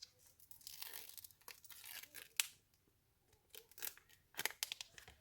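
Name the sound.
peeling the sticker piece off a rubber stamp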